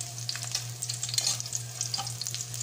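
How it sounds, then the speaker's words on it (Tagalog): Garlic sautéing in hot oil in a pan, a close crackling sizzle with bright popping spatters and a low steady hum underneath, no voices. "Saute the garlic"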